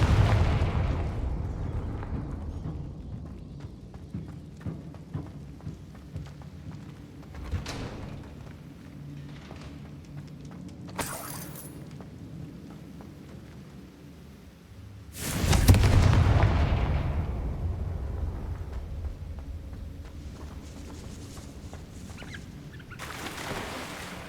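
Confringo explosion spell in a Harry Potter video game, heavy booming blasts with long rumbling decay, one near the start and a bigger one in the middle, over a low ambient game background with short sharp accents.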